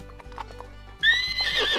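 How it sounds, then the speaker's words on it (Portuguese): Horse letting out a sharp, loud, high-pitched squeal as a warning, coming suddenly after a moment of quieter hoof and stable sounds and holding strong until the end. "São sons agudos e fortes. O cavalo não está gostando de alguma coisa. É tipo um aviso."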